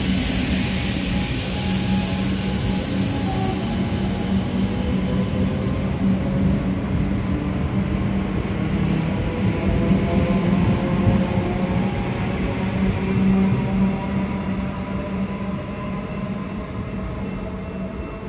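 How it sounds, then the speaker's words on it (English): A Comeng electric train on a Werribee service at Brighton Beach station, a loud, steady rolling rumble with a hum that stays close and constant for the whole stretch. "here is a Werribee service at Brighton Beach with three orange destination headboards"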